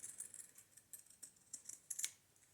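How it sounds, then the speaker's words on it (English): Pinking shears cut across paper in a string of quiet, crisp snips at an uneven pace, close and faint. "that's where I'm going to cut with my pinking shears now on this end."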